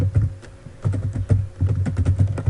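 Typing on a computer keyboard, a close run of quick uneven keystrokes with short pauses between bursts, no speech.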